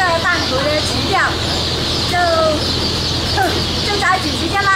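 Chicks peeping in dense overlapping bursts at a large chicken farm holding over a hundred thousand birds, loud and close against a steady mechanical hum, with a person talking over them.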